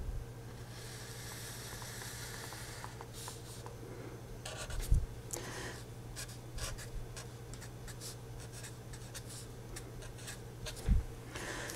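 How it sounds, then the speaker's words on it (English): Marker or chalk scratches across a board as a lecturer sketches a triangle diagram for a dynamical systems class, with soft intermittent strokes over a quiet room hum and a couple of brief knocks. "So let me draw that here."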